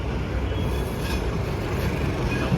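A Vande Bharat express train passes close by outdoors in Ahmedabad, giving a steady, loud broadband rumble and rushing roar that holds evenly throughout, with no voices.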